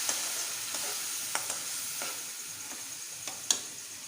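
Tomato paste added to browned masala sizzles in a hot, smoking pan for a spicy brain masala, a steady hiss with occasional light ticks and scrapes of stirring, moderately quiet.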